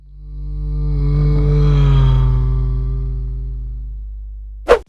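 A car engine drives past with a rising roar that peaks mid-way and then drops in pitch as it recedes, ending with a brief sharp click.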